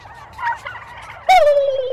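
A person imitates an aggressive male turkey's gobble: a sudden, loud, rattling call that trails off, preceded by softer gobbling sounds nearby.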